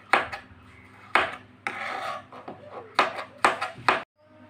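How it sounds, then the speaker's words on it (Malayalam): A knife cuts through potatoes on a board in several short, crisp rasping strokes with brief pauses between them, heard close and fairly quiet with no talking. "നമ്മൾ കിഴങ്ങൊക്കെ നമ്മൾ മൊത്തത്തിൽ നമ്മൾ കട്ട് ചെയ്തെടുത്തിട്ടുണ്ട്"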